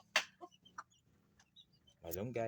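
Silkie crossbreed chicks give a few short, high peeps and chirps, quiet and close, with a louder, sustained harmonic call in the final half second.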